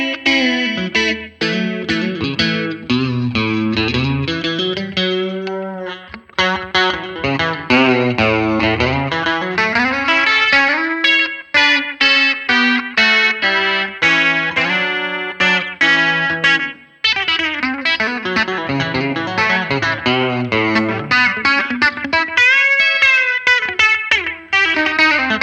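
Electric guitar through a Line 6 POD GO preset with chorus and light distortion, an 80s-style produced tone: continuous fast melodic lead lines and chords, loud and up close, with no talking.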